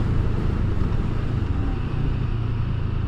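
A 2022 CFMOTO 700 CL-X motorcycle in sport mode pulling away at about 30 mph in fourth gear, giving a steady close engine drone with a low rumble and no speech.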